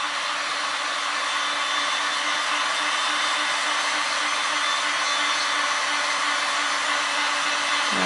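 A heat gun blows hot air onto an NES cartridge label in a steady, loud rush with a constant motor whine, running without a break, then cutting off abruptly at the end.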